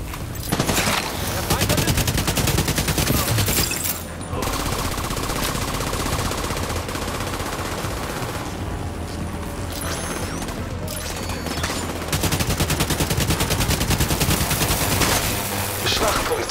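Sustained automatic gunfire from The Division 2 (Warlords of New York) rattles nearly nonstop in loud, dense bursts, with brief pauses around four and fifteen seconds and a busy battle mix beneath.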